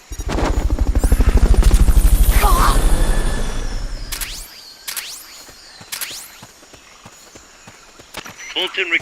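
A loud helicopter rotor in Metal Gear Solid: Peace Walker thumps and whirs for several seconds, then fades away, followed by a few sharp whooshes and soft footsteps.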